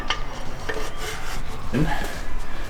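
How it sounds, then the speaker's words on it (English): Metal piston pressed down against a piston ring inside an engine cylinder bore, giving a few short scraping and clicking contacts of metal on metal, close and fairly quiet over a low background. "Using the piston to make sure the ring's square to the bore"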